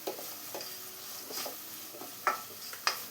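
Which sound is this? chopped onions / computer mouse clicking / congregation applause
chopped onions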